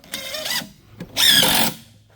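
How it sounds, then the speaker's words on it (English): A drill boring shelf holes into a maple kitchen cabinet, two short whirring bursts close by, the second louder and longer, with a quiet pause between. "While I'm drilling these shelf holes."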